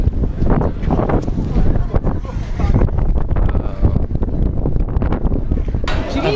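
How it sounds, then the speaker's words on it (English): Strong wind buffets the microphone high on the Eiffel Tower in Paris, a loud, constant low rumble and roar with gusts, covering the whole stretch with little else audible. "Windy out here."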